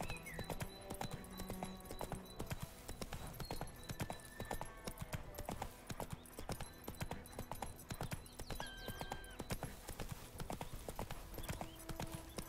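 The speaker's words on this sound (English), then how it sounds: "it just really goes well with the sound of a galloping horse" Horse hooves galloping in The Witcher 3, a fast, steady clip-clop rhythm that carries on throughout, fairly quiet, with music playing faintly beneath it.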